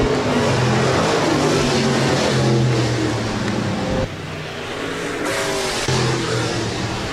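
USRA stock cars race at Rapid Speedway during a B feature, loud engines roaring and revving close by as cars pass, with a brief dip before the noise builds again.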